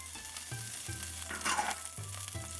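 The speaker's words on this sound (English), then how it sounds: "And just let that saute for about a minute." Pepper, ginger and garlic sizzle in hot oil in a pan for Trini Chinese chicken lo mein, a soft, continuous frying hiss broken by a few low clunks of stirring.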